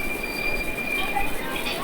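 The Narsapur–Nagarsol express runs from Bhimavaram, heard from inside with a steady rumbling roll and high squealing wheels, continuous and fairly close.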